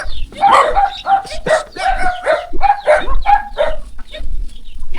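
A dog barks and yips in a rapid string of sharp, loud calls at close range, with some whimpering tones mixed in and no talking over it.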